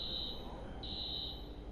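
An alarm sounds in the video game Watch Dogs, a thin high electronic tone that runs steadily, breaks off briefly, then resumes over a low, quiet background hum.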